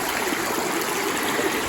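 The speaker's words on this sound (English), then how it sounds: "Another little small creek crossing down here." A small creek rushing over rocks at a hiking-trail crossing near Coldwater Lake, Mount St. Helens, a loud, close, continuous burbling wash with no voices over it.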